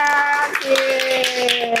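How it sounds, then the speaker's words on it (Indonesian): A classroom of students claps for a classmate who answered correctly, quick scattered hand claps under a voice that carries through the short burst. "tepuk tangan buat Karen"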